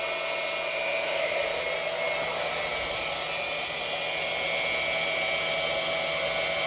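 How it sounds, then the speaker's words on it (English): A 12 volt water pump with a high-flow bypass valve runs in a steady, loud drone with a whining tonal hum, and its pitch shifts slightly as the flow is increased. No voices are heard. "let's kick the flow up a little bit here. You hear the pump tone change."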